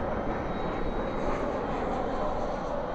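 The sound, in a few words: MD-11 jet aircraft beginning its takeoff roll at DFW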